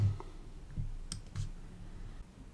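Computer mouse clicks, a few brief quiet taps spaced out over a low background hum, with no talking.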